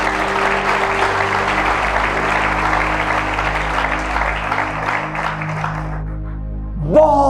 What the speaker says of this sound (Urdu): کیا ہم اس کے لیے تالی بجا سکتے ہیں؟